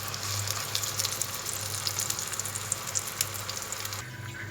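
Shami beef kebabs fry in a pan with a close, steady sizzle and crackle under a low hum, the spattering cutting off sharply near the end.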